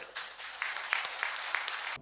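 A crowd in an auditorium at a political speech shouts and cheers in a loud, continuous roar that never lets up, with brief sharper bursts of cries and claps poking out.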